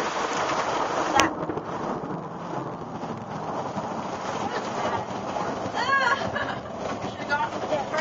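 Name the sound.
thunderstorm with rain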